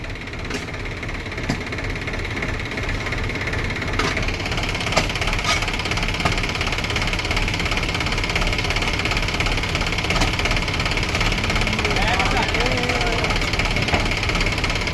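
Nearby, a Mahindra 265 tractor engine idles with a steady low knocking throb while people talk over it and a few sharp clanks sound.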